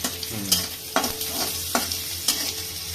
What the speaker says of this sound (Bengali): টমেটোটা দেওয়া হয়ে গেল তারপরে ঠিক আছে ওটা ফ্রাই হয়ে যাবে তাড়াতাড়ি হয়ে যাবে